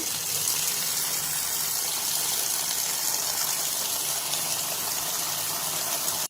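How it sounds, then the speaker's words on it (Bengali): Tap water runs steadily as taro leaves are washed in a kitchen, a constant broadband gush with no pauses and no voices. "শাকটা আমি ধুয়ে নেব ভালো করে, পরিষ্কার করে।"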